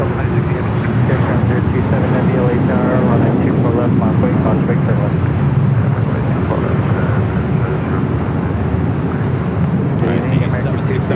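A Delta heavy jet airliner takes off from runway 24 left at LAX. A loud, continuous jet roar fills the whole stretch while radio voices talk over it.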